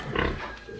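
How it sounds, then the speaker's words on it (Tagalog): Newborn piglets from a first-litter sow grunt and squeal close by in a farm pen, a dense, continuous run of soft piggy calls with no talk over it. "ang healthy ng mga piggies, ang laki-laki."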